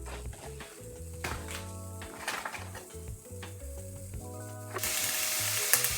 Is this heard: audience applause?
no